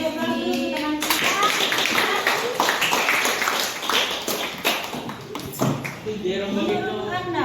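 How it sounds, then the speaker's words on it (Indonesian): Classroom applause for classmates after a vocational school presentation, a burst of many hands clapping in a dense patter, with children's voices and chatter mixed in, starting abruptly and tapering near the end. "Kita beri aplaus dulu teman kita."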